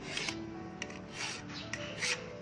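A metal file rasps across the teeth of a hand saw during sharpening, giving several short, close, gritty push strokes in a steady rhythm.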